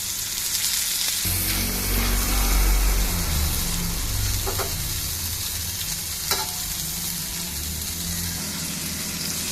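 Pointed gourd frying in oil, a loud steady sizzle with occasional light metallic taps, a low rumble underneath, no talking.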